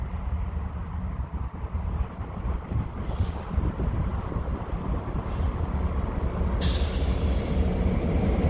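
Short three-engine CN local freight train approaching in winter on the nearest track, a deep continuous rumble building under steady wind noise, with faint high squeals at moments.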